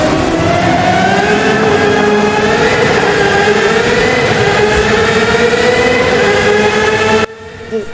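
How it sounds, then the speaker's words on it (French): Aston Martin V12 engine echoing through a tunnel in the Forza Horizon 5 racing game, a loud steady drone with rising harmonic tones as the car accelerates, cutting off abruptly near the end. "on va baisser les vitres virtuellement et écouter chanter ce moteur V12"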